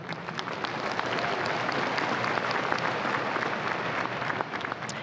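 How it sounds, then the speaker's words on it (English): Loud, dense applause from a commencement ceremony audience honoring the band and its director, a steady wall of many hands clapping at an even level for several seconds. "Let's give them a round of applause."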